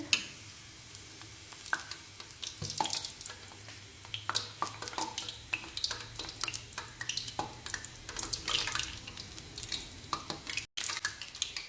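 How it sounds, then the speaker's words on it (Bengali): A fuljuri pitha mould is dipped into hot frying oil, producing a steady close sizzle with many sharp crackles and small clinks of metal throughout. "তারপর আমরা এই সাজটা আবার তেলে চুবিয়ে দেব"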